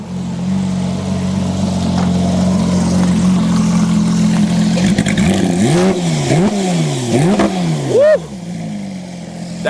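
A manual Porsche sports car engine idles loudly with a deep rumble, then revs sharply several times in rising and falling bursts, close by.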